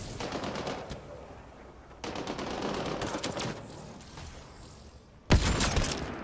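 Sci-fi gunfire from Mass Effect Andromeda, with rapid automatic bursts rattling in several stretches, close and loud, ending in one heavy blast with a long ring.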